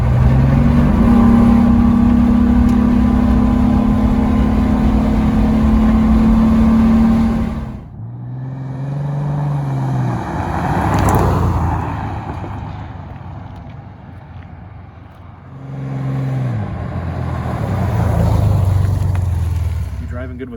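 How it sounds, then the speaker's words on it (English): A Ford Bronco II out on a test drive, its engine running steadily and loud before dropping and then revving back up as the truck pulls away, with wind noise and some passing voices. "We're going to take it for a test drive now."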